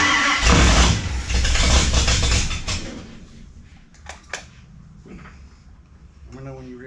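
A race truck engine fitted with nitrous roars loudly for a few seconds, then drops back to a rough idle with scattered clunks while people talk nearby.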